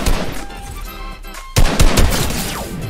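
A sharp, loud sniper rifle shot in a video game, one heavy crack about halfway through, followed by a few more close impacts and gunfire over a steady background.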